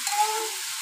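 Gourd sizzling and frying in a pan, a steady hiss with faint stirring, heard up close with no talk.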